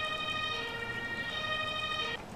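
Ambulance siren in the Emergency real-time strategy video game, a steady wailing electronic tone held throughout and cutting off near the end, over a low background rumble.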